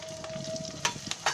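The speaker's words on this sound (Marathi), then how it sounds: "तेल टाकलंय, त्याच्यामध्ये 2 मिरची टाकते." Two chilies and tempering spices dropped into hot oil for upma, sizzling and spitting up close with a few sharp crackles near the end.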